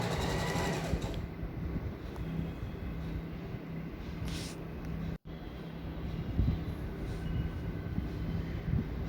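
A sewing machine running a long, steady whirring stitch along the hemline of a uniform skirt, broken by one brief pause midway before it resumes.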